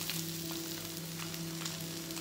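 Ginger and garlic frying in a pan, a soft, even sizzle with faint crackles, steady and fairly quiet throughout, no talk.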